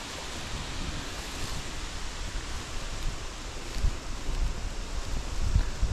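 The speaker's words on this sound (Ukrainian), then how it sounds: "А вітер такий піднявся дійсно сильний" Strong spring wind roars steadily across the microphone in a forest, with occasional low thumping gusts and no voices.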